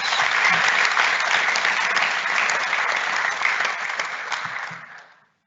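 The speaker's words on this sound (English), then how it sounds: "a warm round of applause" An audience at Hilton College's 2020 Speech Day claps steadily for several seconds before the applause tapers off and stops.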